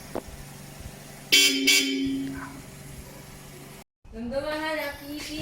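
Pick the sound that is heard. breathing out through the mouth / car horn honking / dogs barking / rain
car horn honking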